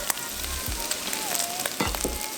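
Bacon fries in a pan over medium heat, browning for a Korean celery side dish. A soft, steady sizzle crackles close by, with a few low bumps from the pan.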